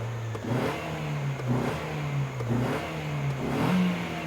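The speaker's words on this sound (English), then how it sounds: "So let me snap the throttle" The engine of a Nissan Sentra under diagnosis for a faulty O2 sensor revs repeatedly as the throttle is snapped, four or five quick surges rising and falling over a steady idle, heard close with no talking.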